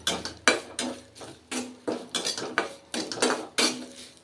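Crushed garlic with its skins dry-roasts in a pan while being stirred briskly. A metal spoon scrapes and clanks against the pan in a quick, regular run of about a dozen rattling strokes.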